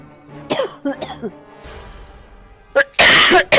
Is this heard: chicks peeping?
no